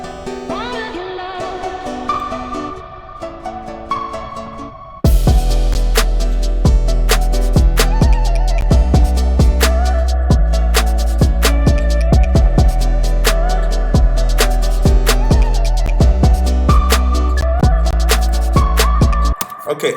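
Hip-hop beat built entirely from Splice samples: a softer melodic intro gives way after about five seconds to a loud full groove with heavy bass and sharp, steady drum hits. No talking.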